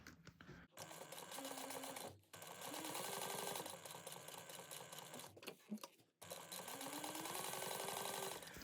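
A sewing machine runs a long basting stitch around a bag lining at an eighth-inch seam, long steady close-up whirring runs separated by a few brief pauses.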